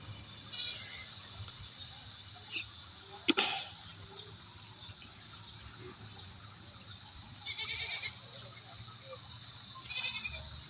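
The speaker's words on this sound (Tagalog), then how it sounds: "yan ang aking alagang kambing" Several short bleats from a pet goat beside a highway sound at a distance, spread out over a quiet outdoor hum with faint background noise.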